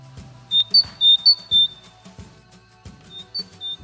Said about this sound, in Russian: Синица.